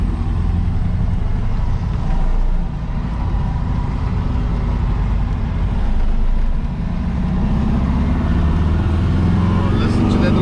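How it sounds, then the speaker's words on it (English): A 60-year-old VW Beetle's small engine runs steadily while driving, with a constant low rumble and road noise filling the cabin and a few brief spoken remarks over it. "Oh, listen to that little motor purr."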